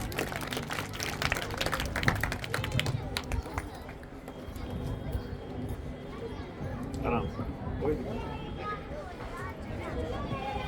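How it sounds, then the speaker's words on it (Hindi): Audience applause at a school's 76th Republic Day celebration: a crowd claps rapidly and loudly for a few seconds, then fades into chatter and a murmuring hall with voices and movement. "एक बार जोरदार तालियां हो जाए"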